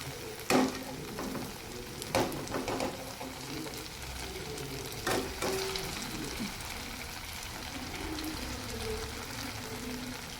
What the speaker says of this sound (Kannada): ಇವಾಗ ಎರಡು ಸೈಡ್ ಕೂಡ ಫ್ರೈ ಆಗಿದೆ